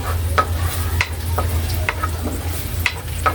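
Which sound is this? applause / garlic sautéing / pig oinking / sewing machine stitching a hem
garlic sautéing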